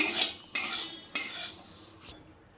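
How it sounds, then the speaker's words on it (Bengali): Mung dal dry-frying in a wok, stirred with a metal utensil: three loud scraping, rattling strokes against the pan, then a quieter fourth, with no talking. "ডালটা আমি একটু ভালোভাবে লাল লাল করে ভেজে নেব"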